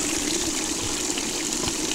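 Water rushes steadily through a powered gold-panning sluice, a loud, continuous gushing flow with no break or talk over it.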